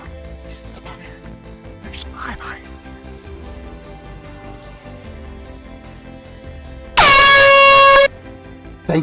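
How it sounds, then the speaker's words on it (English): A loud air horn sound effect blasts for about a second near the end, following quieter game sounds and a talking voice during a Minecraft live stream. "Thank you for the air horn"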